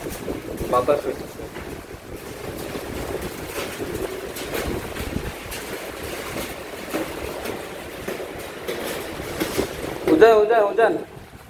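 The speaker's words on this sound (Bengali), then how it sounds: "ঝড় বৃষ্টি শুরু হয়ে গেছে, একেবারে বাতাস হচ্ছে।" A sudden storm at a construction site in Malaysia brings strong gusting wind and rain as a continuous rushing roar, with people talking in the middle of it.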